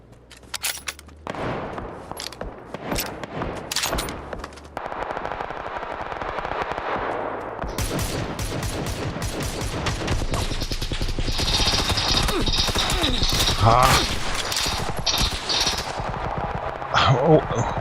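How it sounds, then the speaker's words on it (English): Bursts of automatic and single gunfire in PUBG, rapid rattling volleys that build in density and loudness toward the end, heard under occasional talk. "did he feel the need to shoot at them?"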